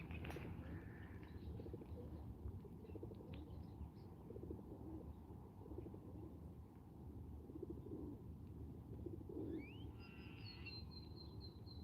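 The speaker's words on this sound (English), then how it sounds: "The best part of this challenge is listening to the birds." Birds chirp and call now and then over a steady outdoor background rumble, with a clearer run of bright calls near the end.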